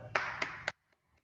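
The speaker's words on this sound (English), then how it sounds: "I would like to clap for him." A meeting participant gives three sharp, close hand claps in a quick even rhythm, followed by near silence with a couple of faint taps.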